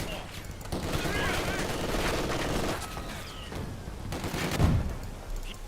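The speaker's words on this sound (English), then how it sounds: "Taking small arms fire. Oh, they've got a machine gun there." Machine gun fire from the World War II strategy game Company of Heroes 2, steady rattling bursts running almost continuously at moderate loudness, with battlefield noise and a heavier impact near the end.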